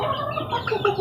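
A hen clucks close by alongside newly hatched chicks, soft low clucks mixed with brief high peeping over about a second.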